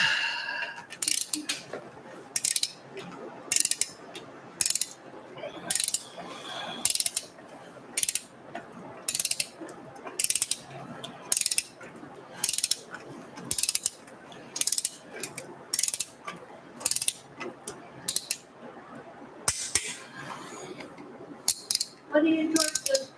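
A ratchet wrench tightens engine bolts while a twin turbo 4200 engine is installed in a Datsun, with bursts of sharp, rapid clicking repeated again and again, separated by short quieter pauses.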